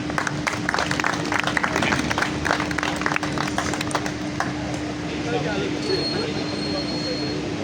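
An audience claps loudly and steadily for Chaudhry Waheed Gujjar at a party honouring champion players. The applause is a dense, continuous crowd sound that fades slightly toward the end, with a faint steady hum underneath.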